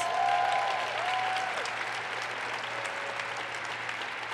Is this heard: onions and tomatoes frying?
no